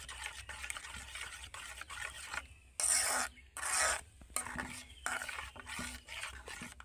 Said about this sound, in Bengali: এইভাবে নেড়ে নেড়ে মিশিয়ে নেব